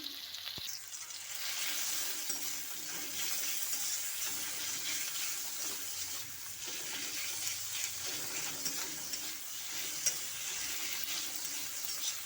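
Spice masala with tomato and salt fries for ghugni, making a dense, even sizzle that runs the whole time, close and moderately loud, with faint stirring underneath and no talk.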